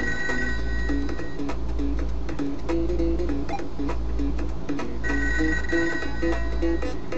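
Phone ringing in the ToeJam & Earl video game: a loud electronic ring pulsing in repeated bursts over a steady low game-music drone, with no talk.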